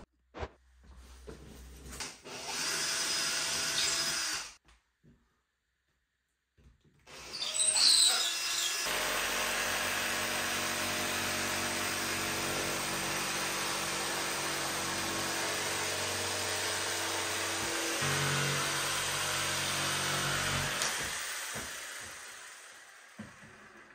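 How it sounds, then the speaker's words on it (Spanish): Power drill boring holes in drywall while a kitchen is being built, coming in loud whirring bursts: a short run, a brief silence, then a long sustained drilling that fades near the end. "Voy a hacer los agujeros para ver cómo queda"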